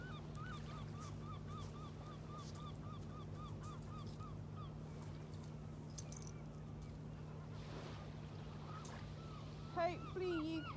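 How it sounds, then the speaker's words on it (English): Repeated gull cries calling over a low, steady wash of water at a beach, quiet and distant, with a few louder squawks near the end. "Hopefully you can hear the sound of the water and the seagulls."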